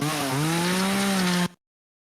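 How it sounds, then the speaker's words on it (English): Chainsaw sound effect played from a soundboard: a loud, buzzing, steady engine drone with a slight pitch dip near the start, lasting about a second and a half before cutting off abruptly into silence. "Chainsaw?"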